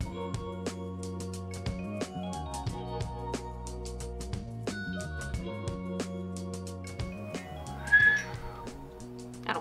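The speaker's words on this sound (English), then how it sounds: "I don't whistle very well." A person whistles a slow, wavering tune alone, with sustained notes over a quiet background of soft tapping.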